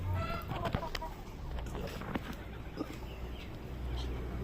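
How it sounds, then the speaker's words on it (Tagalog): Several Chinese chickens, two hens and a rooster, clucking and calling in a pen, with bursts of clucks over steady low background noise. "Yan siya mga tropa, tatlong Chinese chicken siya."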